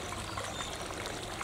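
Water poured into an opened plastic bag holding a Goshiki koi from the Koda Koi Farm, mixing in new water; a steady close trickle and splash runs throughout without talk.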